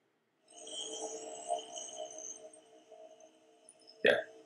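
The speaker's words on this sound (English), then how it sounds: "So this is a monk chant." Monk chant recording played back from a sleep app, a sustained low droning chant with layered harmonic tones, fairly soft and steady, ending with a brief sharp knock.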